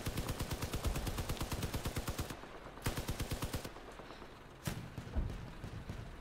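Rapid bursts of auto-cannon fire from a Crossout vehicle battle, with a fast run of sharp, loud shots followed by shorter separate volleys and pauses of rumbling background.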